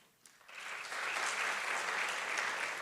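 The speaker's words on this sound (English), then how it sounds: "Another big round of applause to our guest colleagues." Guests at a school education district awards ceremony draw applause from the audience, building quickly from a few claps into a sustained, broad round of clapping heard from across a hall.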